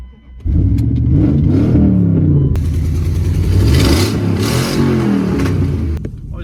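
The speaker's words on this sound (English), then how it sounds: "We'll get this old fucking slug fired up here for you right now." An old Dodge Dakota pickup truck cranks over and fires up, its engine then revving in repeated rising and falling swells that stay loud and close, alone without talk.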